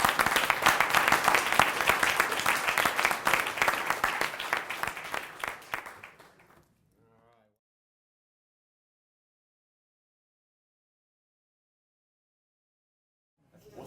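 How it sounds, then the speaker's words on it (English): Audience applause at an investment challenge event, dense sustained clapping for about six seconds that fades out into silence. "Let's give him a round of applause."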